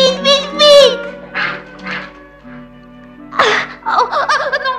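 A cartoon duck in a well quacks in a few short nasal bursts, loud and close, mixed in with animated voices and other playful sounds.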